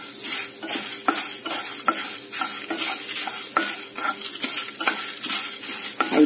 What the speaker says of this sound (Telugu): ఇది దోరగా వేగినాయండి ధనియాలు